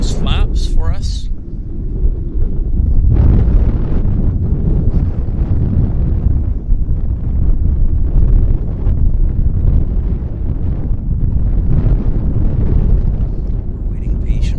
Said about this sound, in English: Maybe he doesn't know it's so windy out.